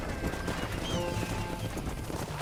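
Horse hooves clip-clopping in the Western video game Red Dead Redemption, a brief rhythmic patter mixed with game ambience and faint whinny-like tones.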